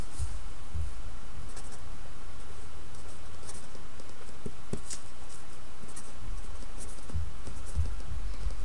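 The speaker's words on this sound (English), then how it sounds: "let's write it down again" Pen or pencil scratches across paper while a calculation is written out, a soft continuous patter of strokes with small taps, close and fairly even, with no talking.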